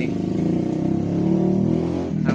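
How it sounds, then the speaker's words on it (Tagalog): Honda 125 Alpha motorcycle engine idling steadily at close range, a low, even, throbbing mechanical drone that holds for a couple of seconds without revving. "Ngayon, pinandar ko ang kanyang makina"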